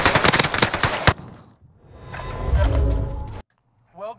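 Rapid bursts of automatic gunfire in a video game on the Caldera map, loud and close, followed by a rumbling blast, then a sudden cut to silence and a brief whooshing tail.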